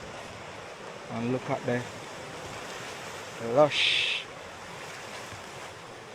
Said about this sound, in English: So yes, that's the beach